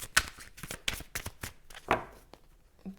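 Cartomancy cards are shuffled for a love reading, giving quick, close, papery flicks and riffles in an uneven rhythm that fades out toward the end.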